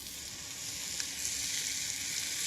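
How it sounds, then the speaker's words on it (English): Meat sizzles and fries in hot oil in a casserole pan, a steady, bright hiss that builds slightly and carries on unbroken with no voices. "put the meat in, wait for the sizzle"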